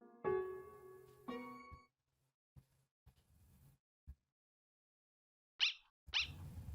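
A dog in the video game Undertale gives a few short, sharp barks late in the clip, following stretches of chiming game music and quiet gaps.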